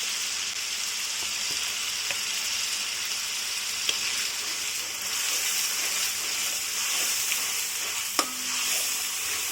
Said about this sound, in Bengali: এগুলোকে কষিয়ে নেব যতক্ষণ পর্যন্ত না আদা রসুন আর পেঁয়াজের কাঁচা গন্ধটা দূর হয়